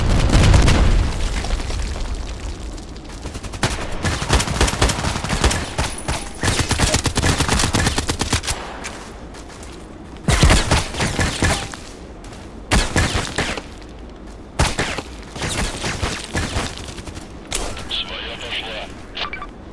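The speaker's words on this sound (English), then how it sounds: "Mortar strike, luckily it didn't hit my guys." Mortar strike explosions in the shooter game Contract Wars, a string of loud booms and rattling gunfire bursts spread across the scene, with sharp impacts recurring irregularly and someone talking over parts of it.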